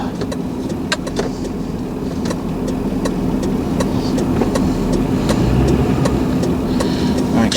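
A 2006 Lincoln Town Car Signature Limited, a rear-wheel-drive sedan, cruises around a mall area, heard from inside as a steady low road and engine rumble with occasional light clicks and rattles.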